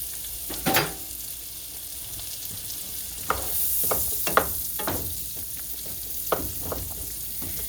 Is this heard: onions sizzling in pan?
yes